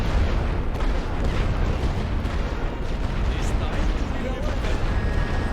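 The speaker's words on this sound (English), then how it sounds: "I'm calling in light artillery right now to suppress" Light artillery barrage in The Great War: Western Front, a dense, continuous rumble of booms and blasts holding steady and loud throughout, with no clear gaps between impacts.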